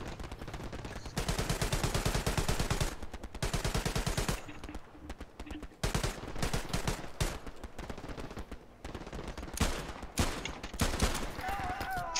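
Rapid bursts of sniper and automatic gunfire in a shooter video game, loud and dense, running almost continuously with brief gaps and no speech.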